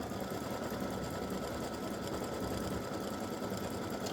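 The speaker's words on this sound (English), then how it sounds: "I realized my machine was stitching too fast." An embroidery machine stitches a quilting design with a fast, steady whirring hum and dense needle chatter, continuous and close, with no talk.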